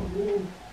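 A dove gives a single short, soft coo, close and clear against a quiet indoor background.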